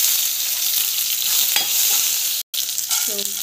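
Small onions, garlic and chana dal sautéing in oil give a steady, close broadband sizzle with occasional spatula scrapes and stirring knocks, a brief dropout near the middle and faint clinks toward the end; no one speaks.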